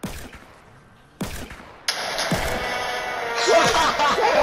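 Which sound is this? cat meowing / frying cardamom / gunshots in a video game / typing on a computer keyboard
gunshots in a video game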